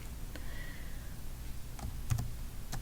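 Computer keyboard arrow keys are pressed in a few sparse, faint clicks against a low steady room hum, with a small cluster of taps near the end.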